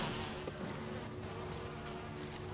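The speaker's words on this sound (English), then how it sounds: "That's a lot of bees." A dense swarm of bees buzzes steadily near a nest in the Resident Evil video game, a continuous close drone filling the scene without letting up.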